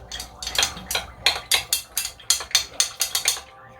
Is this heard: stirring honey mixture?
yes